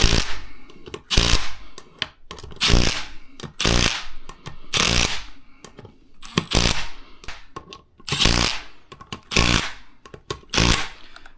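A power tool in short, loud, repeated bursts tightens beadlock wheel bolts at torque setting 2, working around the wheel in a circle. About a dozen sharp buzzing pulses are separated by brief pauses.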